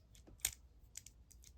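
Spring-loaded blades of a Bibury rescue tool scissors clicking, a few quiet, sharp snips and clicks spaced irregularly in a still room.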